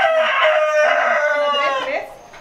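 A rooster crows on a poultry farm, one loud, close, drawn-out call of about two seconds that rises and then trails off. There are no other sounds over it.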